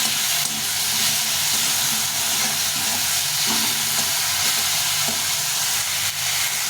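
Tomato frying in a pan with turmeric powder, a steady hiss and sizzle with occasional soft stirring knocks, fairly close and continuous without any talking.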